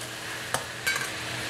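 Ginger-garlic paste for a black pepper karahi fries in a pan, a low steady sizzle broken by two short scraping stirs, close and moderately quiet, with no voices.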